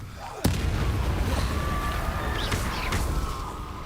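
An Incendio fire spell cast in Hogwarts Legacy: a sharp, close blast followed by a roaring whoosh of fire and a second burst, loud within game ambience.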